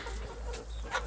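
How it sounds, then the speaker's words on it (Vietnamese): Free-range hens on a Vietnamese farm cluck at feeding time, several short nearby clucks over a steady low farm rumble, with no talk. "Gà mái, mình nuôi chủ yếu là gà mái thôi"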